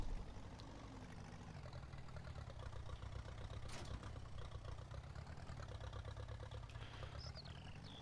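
A tractor engine idles steadily in a farming video game, a continuous low rumble that holds even and unbroken from start to finish, with no voices over it.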